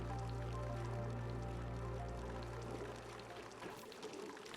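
Water pours steadily into a tank in the Demolior Survivors video game, a continuous rushing stream that runs for several seconds before easing slightly toward the end.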